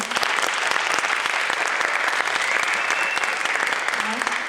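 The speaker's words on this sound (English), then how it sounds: "Can we give them all another round of applause?" A theater audience at a high school senior showcase gives a steady, dense round of applause that stays loud and even throughout, with crowd noise mixed in.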